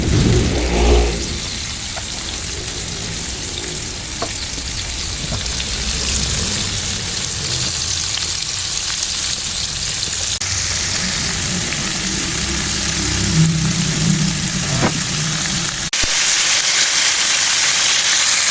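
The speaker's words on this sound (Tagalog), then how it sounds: "Let's deep fry. And then, prito na natin." Steady, broad sizzling of chicken deep frying in hot oil continues throughout, loud and close, with occasional clatters and no voices.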